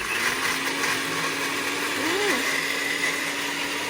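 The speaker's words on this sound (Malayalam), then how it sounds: "അവക്കാഡോ ഷേക്കും ബദാമും കൂടി ഇട്ട് അടിച്ചത് സെറ്റ് ആയിട്ടുണ്ട്." A 600-watt kitchen mixer whirs continuously blending an avocado shake with almonds, a loud steady motor drone close by, with a brief voice sliding over it midway.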